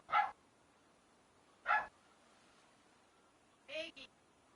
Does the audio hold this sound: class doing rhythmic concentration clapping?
no